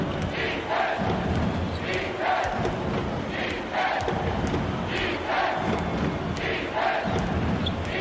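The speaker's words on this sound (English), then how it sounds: "Listen to the crowd burn." A basketball arena crowd in the College Basketball 2K8 video game roars and cheers in rolling surges, a dense continuous wall of voices with no clear talk over it.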